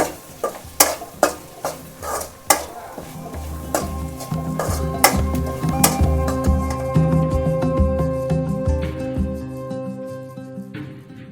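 A spoon clatters sharply against a pan as lady's finger fry with coriander powder and chilli powder is stirred, a run of distinct metallic knocks giving way to a steadier sizzle with softer scraping.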